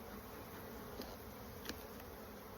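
Honeybees hum softly during an apiary hive inspection, a faint continuous buzz with a couple of small clicks, quiet and steady throughout.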